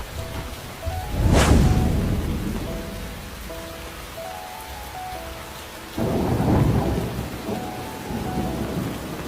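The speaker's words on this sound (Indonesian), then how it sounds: "Di sini hujan lebat loh." Heavy rain pours in the Sakura School Simulator video game while loud rolls of thunder crash twice over a steady synthetic downpour, with no one speaking.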